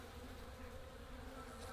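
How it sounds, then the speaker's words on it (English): Honey bees swarm densely over hive frames, producing a soft, steady, continuous buzz that holds at an even level throughout. "Look at that, that is a lot, and I mean a lot of bees."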